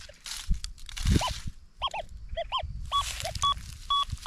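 An XP Deus II metal detector sweeps over a yard, giving scattered short warbling tones and chirps over rustling and crunching of ground and footsteps, with no talk.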